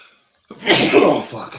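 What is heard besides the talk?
sneeze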